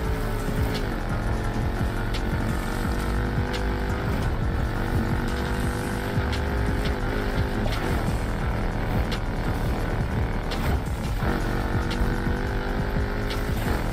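A car engine drones steadily in the racing game Need for Speed Heat, with repeated revving and gear-shift dips and rises under a continuous mechanical hum.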